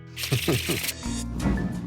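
An antique card shuffler works a 1914 deck of cards, giving a rapid riffling clatter of cards, with someone talking over and after it.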